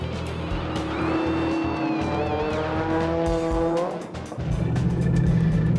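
A car speeding among other cars on a celebrity touring drive, engine revving up through a rising whine with tire noise, then dropping briefly before a rougher, louder rumble returns.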